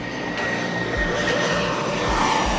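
Aircraft engines idle as airplanes wait in a queue on an airport taxiway, giving a steady, loud, droning roar with no break across the short stretch.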